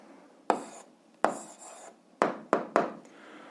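Pen or marker strokes as an algebra answer is written out by hand, with five distinct scratchy strokes, each starting with a sharp attack and fading, spaced irregularly against quiet room tone.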